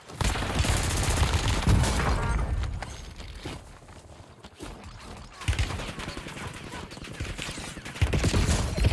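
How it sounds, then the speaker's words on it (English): Gunfire from another player in Warzone crackles in sustained bursts, loud and close at the start, dropping off briefly in the middle, then returning in heavy rapid volleys. "So that shooting's a player."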